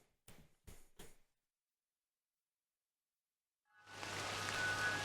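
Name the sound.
rain falling in a video game (Crow Country)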